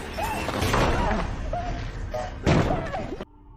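A door, likely a storage shed door, is forced open with a heavy slam and crash, followed by a second loud impact, set among dramatic film sounds and brief vocal sounds.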